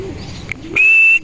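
Young birds give a thin, high whistled call, one sustained clear note lasting under half a second, close and fairly loud after a couple of faint chirps.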